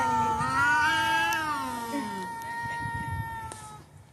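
A pet cat meows close by in a long, drawn-out cry with a bending pitch, followed by a quieter tail of room noise and faint movement.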